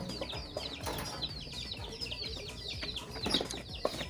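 A flock of chickens clucks busily and overlapping before feeding, rapid chirpy calls and low murmurs with occasional wing flutters, moderately near with no talking.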